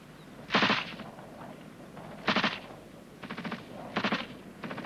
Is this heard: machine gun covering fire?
yes